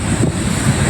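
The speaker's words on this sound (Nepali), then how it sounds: "कति मजाको हावा चल्यो" Wind blows outdoors and buffets the microphone in a loud, steady, low rumble that lasts for about one second.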